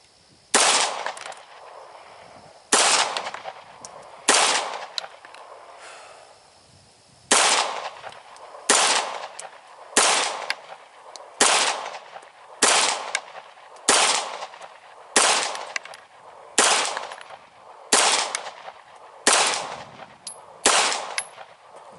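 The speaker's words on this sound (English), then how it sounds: "Shooting my PT-99 at 50 yards." A Taurus PT-99 pistol fires at targets 50 yards away on a shooting range, a long series of loud, sharp single shots spaced a second or two apart, with short pauses between groups.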